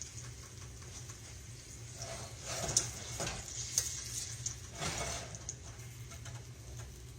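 A pancake-shaped patty cooks in a pan with a low, steady sizzle, faint and close, broken by a few soft clicks and scrapes.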